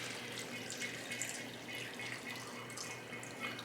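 Water pours steadily into a container for canning home-grown beans, a continuous, moderately loud splashing stream with no voices.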